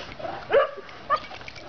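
A big dog lets out a short whimpering bark and then a second brief yelp, both close and fairly soft.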